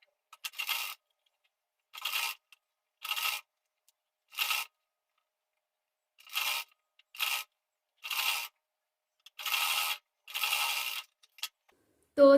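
Sewing machine stitching a half-inch-margin seam around the curve of a sleeve, heard as about a dozen short bursts of whirring, close and clear, with silent pauses between them.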